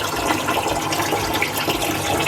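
Water steadily pours and splashes into the sump of a Red Sea Reefer 425XL reef aquarium from an auto top-up system, a continuous loud rushing and gurgling flow heard up close.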